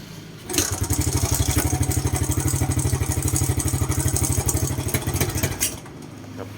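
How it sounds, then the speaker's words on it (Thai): A Suzuki Smash motorcycle with a dirty carburetor idles close by in a steady, rapid chugging rhythm, then the throttle is twisted and the engine abruptly cuts out to near silence. "เครื่องยนต์ก็นิ่งปกตินะครับผม แต่บิดคันเร่ง นี่ครับ"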